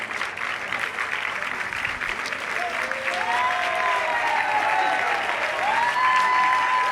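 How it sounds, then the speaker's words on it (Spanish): Church congregation applauding at a Spanish-language service, a dense steady clapping that swells louder toward the end, with cheering voices and shouts mixed in. "Póngase de pie, aplauda, aplauda, aplauda, aplauda."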